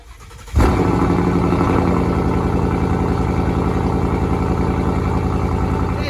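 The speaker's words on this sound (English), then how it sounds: "let's get a sound bite of my engine. This is my Mustang 2017 5 litre" A 2017 Ford Mustang 5-litre V8 fires up after a brief quiet moment, then settles into a loud, steady, deep rumbling idle close by, with no talking over it.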